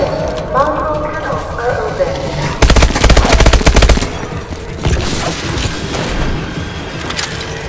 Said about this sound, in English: Shots now.